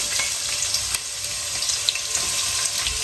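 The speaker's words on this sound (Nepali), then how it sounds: "अनि यसलाई म अनियन फ्राई गर्नलाई राख्छु" Onions fry in about five spoonfuls of hot oil for homemade chicken biryani, a continuous close sizzle with scattered crackles and pops, no talking.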